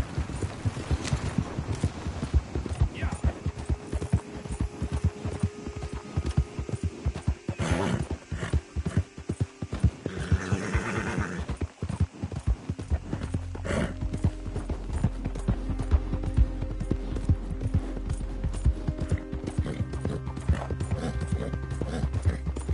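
A horse's hooves clip-clop steadily in Red Dead Redemption 2, a continuous rhythmic trot of close, crisp hoofbeats with brief neighs and ambient game noise, with no speech over it.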